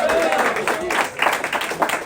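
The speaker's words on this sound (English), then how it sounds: "Yeah, smattering of applause" A small comedy-club audience gives a scattered, uneven patter of clapping, close and moderately loud, with a few sharper bursts near the end and crowd murmur underneath.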